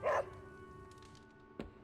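A dog in the Marvel Midnight Suns video game gives a short, loud yip or bark at the very start, followed by quiet ambient game sound and a faint click near the end.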